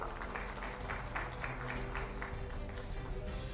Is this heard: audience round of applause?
yes